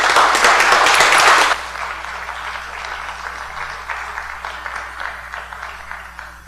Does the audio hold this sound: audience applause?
yes